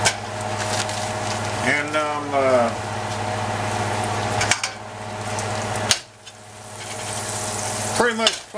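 Butter sizzles steadily in a hot pan with garlic, a continuous frying hiss under a voice, with a few utensil clanks on the pan.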